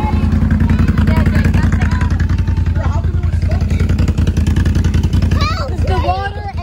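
An ATV engine revs steadily with a rapid, rumbling idle-to-throttle pulse and rattling clatter, close and loud throughout, while people talk and call out over it.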